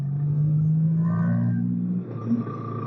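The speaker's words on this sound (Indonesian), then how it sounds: "Ini di depan suara knalpot mobil lumayan agak berisik, mobil pickup" A pickup truck's fairly loud exhaust rumbles in road traffic just ahead of a motorcycle rider, a steady low drone with a brief surge near the end, heard alone without talk.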